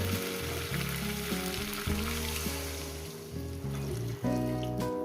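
Hot water hitting a sizzling, spiced, fried-down curry base for a thin potato and drumstick stew, giving a loud frying hiss with bubbling and a steady mechanical hum underneath, close and continuous.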